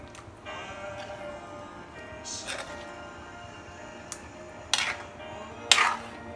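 Pieces of Goan fish simmering in a spiced coconut-milk curry are gently turned in the pan, giving a few sharp clinks and scrapes of utensil on metal over a low background hum.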